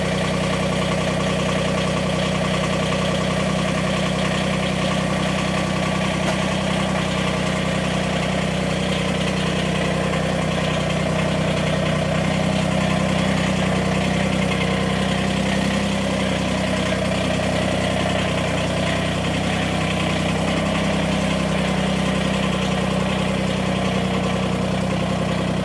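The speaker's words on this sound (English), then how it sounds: "I'm sitting on a diesel tractor" A diesel tractor engine idling steadily up close, a constant low rumbling drone with mechanical clatter and no speech throughout, recorded outdoors on a cool day.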